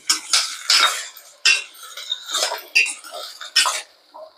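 A metal spoon clinks and scrapes against a pot while drumstick sambar with fresh curry leaves is mixed, giving several distinct close, sharp knocks and rattles in quick bursts with brief pauses between.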